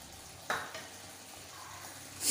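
Chicken pieces sizzling in a pan while cooking, a steady close frying hiss with a brief stir or clatter near the start and a louder sizzle burst at the end.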